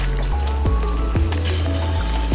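Banana fritters sizzle steadily in hot oil after being flipped, a close, continuous frying hiss with faint popping and a low hum beneath, no talking.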